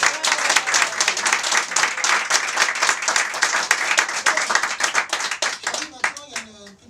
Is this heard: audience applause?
yes